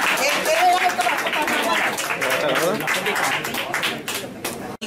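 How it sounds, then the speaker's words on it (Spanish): Audience applause at a reunion of the Peña Hospitalet, with dense, steady clapping from a sizeable crowd that runs throughout and includes a few sharper claps near the end, with voices mixed in. "muy bien, un aplauso"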